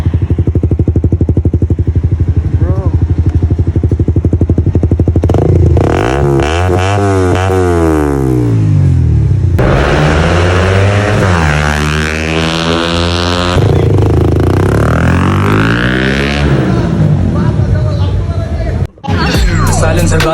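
Suzuki GSX-R motorcycle fitted with a Scorpion exhaust revs hard several times, loud and close, the engine climbing and falling in long sweeps with a steady idle between, no talk over it.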